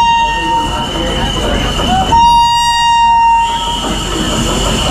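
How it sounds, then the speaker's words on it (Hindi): Sampoorna Kranti Superfast Express, an overcrowded train hauled by a WAP-7 electric locomotive, arriving at a platform as a loud, continuous rumble with tonal whistles and squeals over crowd noise and nearby voices. "तो दोस्तों देखिए लगाई जा रही है अपनी संपूर्ण क्रांति सुपरफास्ट एक्सप्रेस।"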